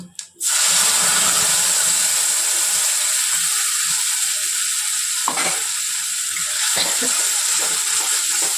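Ginger-chili paste hits a hot oil tempering in a kadai, setting off a loud, close, continuous sizzle. A short clatter comes at the very start and a few faint knocks follow.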